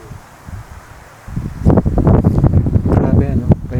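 Wind gusts hard along a high mountain road above farmland, buffeting loudly and roughly. Voices talk over it.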